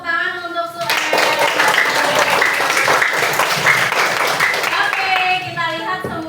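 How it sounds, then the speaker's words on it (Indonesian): Students in a classroom break into a burst of hand clapping for a classmate, filling about four seconds with dense, loud applause, while a teacher's voice and children's chatter sound around it before and after. "Kasih tepuk tangan untuk Suem."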